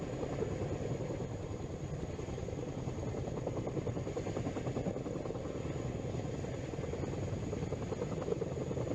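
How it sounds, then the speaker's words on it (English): Chinook helicopter in a video game, its rotor thump and engine drone running steady and continuous at moderate level throughout, with no talking. "this is the Chinook"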